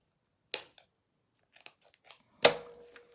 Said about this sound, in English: And I'm gonna trim it right there where my glue ends.